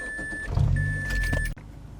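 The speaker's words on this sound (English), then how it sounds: "To start the car, press the clutch pedal in and crank the ignition." A manual transmission car's engine is cranked with the ignition: a low starter churn and rumble lasts about a second before cutting off abruptly, while a steady electronic chime sounds on and off above it.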